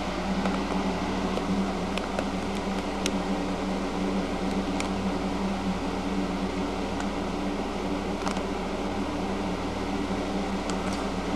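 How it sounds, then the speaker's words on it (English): A small electric fan with its grilles removed runs with a steady, even whir and hum close by, broken only by a few faint ticks and clicks. "Here's a look at my rather dangerous fan."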